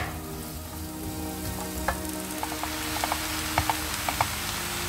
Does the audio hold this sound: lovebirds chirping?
no